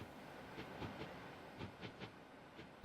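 A brick-hauling train in a simulation game runs along the track with a soft, rhythmic clickety-clack of wheels over rail joints, the beats evenly spaced, then a sharp loud burst right at the end.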